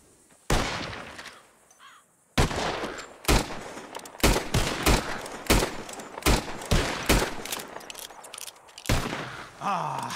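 Repeated rifle gunshots fired at birds in Red Dead Redemption 2, a dozen loud sharp cracks spaced unevenly over several seconds, with brief quiet gaps at the start.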